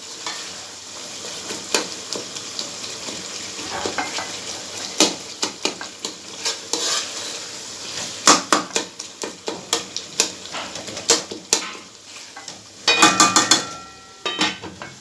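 Softened tomatoes are mashed and stirred in a pan for a chicken masala gravy, giving gentle sizzling with repeated scraping and knocking of a spoon against the pan.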